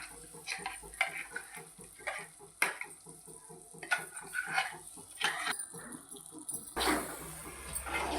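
A spoon scrapes and stirs through thick blended tomato paste in a pan for tomato pickle, with a faint sizzle, in repeated strokes, close by, with no talking.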